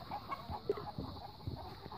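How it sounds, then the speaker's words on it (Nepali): Local chickens, mostly young roosters with some hens, cluck softly on a village poultry farm in Kavre, with short irregular calls close by in a quiet setting. "यो लोकल कुखुराको फार्म हो"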